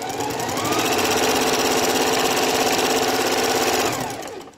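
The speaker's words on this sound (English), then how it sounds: "So we're just sewing like a 1/4 inch in here on both edge." A sewing machine runs a quarter-inch seam along the fabric edge, its needle clattering in a rapid, even close-up rhythm for about four seconds before slowing to a stop.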